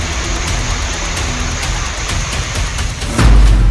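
Heavy monsoon rain during severe flooding in the hills and plains, a dense steady broadband hiss that holds loud throughout and swells heavier near the end, with no voices.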